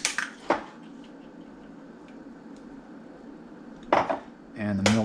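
A whisk clattering against a bowl while beating eggs and milk together, a few sharp metallic clinks and scrapes spaced apart over quiet kitchen background, close and fairly faint.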